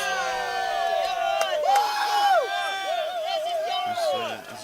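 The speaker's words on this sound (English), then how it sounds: "you may well hear some cheering and wooing going on in the background" Crowd cheering and whooping beside the team benches at a Colombia versus Austria match, loud, close voices rising and falling in excited shouts throughout.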